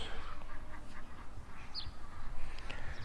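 Ducks quack now and then in a dacha garden in Siberia, distant and fairly faint amid outdoor ambience and rustling, with a short sharper call partway through.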